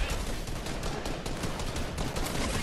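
Dense, continuous gunfire in Fortnite, with rapid overlapping shots forming a loud, unbroken wash of noise for a few seconds.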